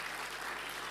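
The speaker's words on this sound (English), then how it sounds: "Another round of applause to the PW team." Dense, steady applause from a crowd at a banking strategy launch event in Rwanda, a brief burst of clapping at moderate distance.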